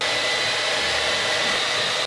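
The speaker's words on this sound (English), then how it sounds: "yes, Sophie can use her hairdryer" A hair dryer runs aboard a sailboat on its onboard electrical system, a steady, loud, close whooshing hum with constant airflow noise and no talk throughout.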